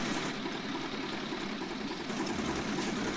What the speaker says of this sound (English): Right, I'm not going to switch the engine off.